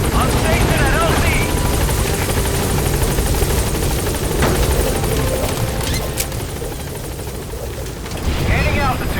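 A video-game helicopter in Metal Gear Solid V hovers loud and close at a landing zone, its rotor drone steady throughout with brief bursts and game effects layered over it, while a radio voice talks.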